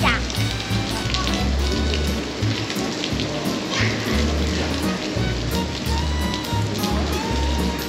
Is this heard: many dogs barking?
no